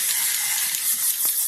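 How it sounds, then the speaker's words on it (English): Dry shampoo from an aerosol can hisses into hair in one continuous close spray lasting about a second and a half, then cuts off. "I'll spray that into my hair and I'll leave it."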